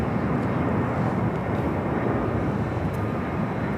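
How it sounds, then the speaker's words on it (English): A Delta A321 airliner coming in to land at LAX roars steadily overhead, a loud, dense broadband engine rumble that holds constant throughout with no voices. "Delta A321 coming in from Detroit"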